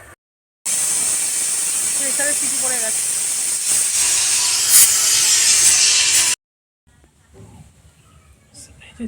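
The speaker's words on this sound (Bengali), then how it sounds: "প্রেসারের সিটি পড়ে গেছে।" A kitchen pressure cooker releasing steam while pitha are made for Makar Sankranti: a loud, sustained hiss of about six seconds that cuts off abruptly, followed by quieter faint kitchen sounds.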